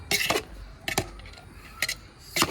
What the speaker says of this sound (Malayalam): ചോറൊന്ന് മിക്സ് ചെയ്ത് കൊടുക്കാം